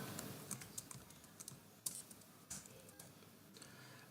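Computer keyboard typing close by, with irregular light key clicks and occasional sharper taps in short bursts over a quiet background.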